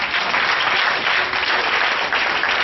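A church congregation claps together at an evening worship service, a dense, even wash of hands that stays loud and steady from start to finish with no voices standing out.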